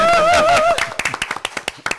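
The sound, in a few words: studio clapping for a guest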